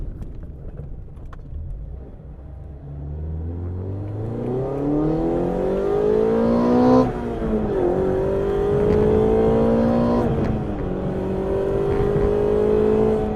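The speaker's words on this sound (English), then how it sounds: "we'll try and do a little pull here, so second and third gear" A Mazda MX-5 ND (Miata) fitted with a CleaR Motorsport sound tube pulls hard through second and third gear, its engine note rising steadily, dropping briefly at the upshift, then climbing again, loud and close with no talking.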